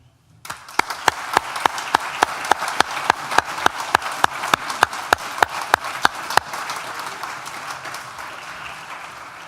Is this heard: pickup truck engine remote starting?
no